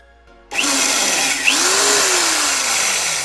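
A power drill bores a hole in a Honda Prelude headlight, starting abruptly after a short silence and running as a loud, continuous high whine with a brief pitch sweep as the bit bites.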